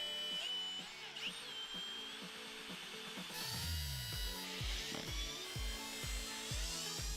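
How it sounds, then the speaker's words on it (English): A power drill bores into the deck lid of a brand new Supra, whining in rhythmic bursts that rise and fall, with a deeper grinding surge midway and no voices over it. "that's where we're going to drill into your brand new Supra"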